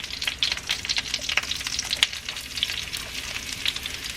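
Garlic sizzles in butter in a pan alongside shrimp, a steady close crackle with frequent small pops and spits and no talking.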